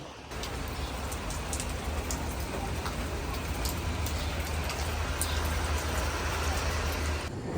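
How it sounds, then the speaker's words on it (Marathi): Steady, dense rain pattering on surfaces, constant and fairly loud throughout, with a low rumble underneath and no talking. "पाऊस थांबून गेला नाही अजून पण चालूच आहे पाऊस"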